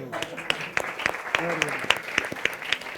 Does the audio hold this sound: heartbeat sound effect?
no